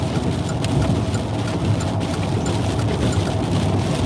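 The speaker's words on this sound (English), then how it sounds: "you just hear a piece of hail just slam through the car" Hail pelts a car being driven through a storm in South Georgia, a dense, continuous rattle, with occasional sharper impacts standing out above the steady drumming.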